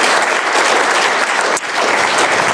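Loud, close applause from a conference audience thanking speaker Erwan, a dense clapping wash with a brief dip partway through before it swells again.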